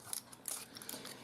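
Scissors snip through paper while making a small mini-basket envelope craft, a few quiet crisp cuts close by with no talking.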